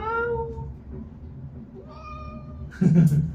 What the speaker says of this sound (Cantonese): 貓。